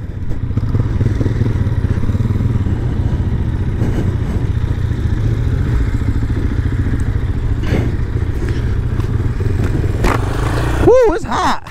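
A KTM 500 motorcycle engine runs steadily and loudly up close through the whole stretch, with a dense mid-range drone, a few thuds and clatters, and a brief rising rev or whine near the end.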